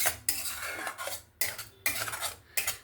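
Spoon stirring a paste of yogurt, ground cashews and melon seeds into spices in a pan for an egg curry, with repeated scraping, clinking strokes against the metal, close and clear.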